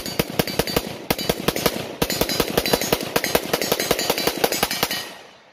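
Rapid bursts of rifle fire from an AK47-pattern PM90 at a firing range, loud sharp reports in fast irregular strings of shots with brief pauses between bursts.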